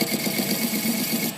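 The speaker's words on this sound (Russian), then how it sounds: "Ну и фасочки сделаем." A metal lathe chamfers the edges of a part, producing a continuous whirring hum with a faint rhythmic grinding texture, close and even throughout the short stretch.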